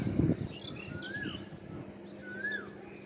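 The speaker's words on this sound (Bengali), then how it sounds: "ওই যে কোকিল ডাকতেছে পিছনে" An Asian koel calls in quiet rural countryside, a few faint rising whistled notes that repeat at a distance over soft ambient background with a brief low thump at the start.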